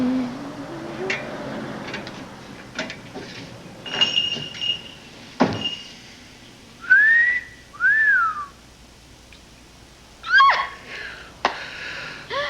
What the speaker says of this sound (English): I can tell from that wicked whistle that neither have you